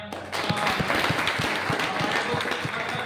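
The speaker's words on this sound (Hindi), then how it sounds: "एक बार पवन सर के लिए जोरदार तालियां" Audience at a coaching event gives loud applause for a teacher named Pawan, a dense wash of many hands clapping steadily for about three seconds with no voices over it.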